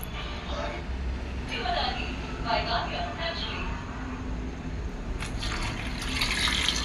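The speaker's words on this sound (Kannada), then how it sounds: "ಸ್ವಲ್ಪ ನೀರು ಹಾಕಬೇಕು ಇದಕ್ಕೆ ಬೇಯಿಸ್ಕೊಳ್ಳುವಾಗ ನೀರು ಹಾಕಿ ಬೇಯಿಸ್ಕೊಳ್ಳೋಣ" Water splashes and pours into a pot of bamboo shoot curry in bursts, close by, over a steady low background rumble.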